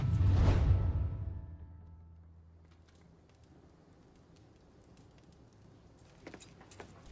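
Truck keys jangle loudly in Mafia 3, a bright metallic rattle that fades into a quiet ambient bed, with a few light clicks near the end.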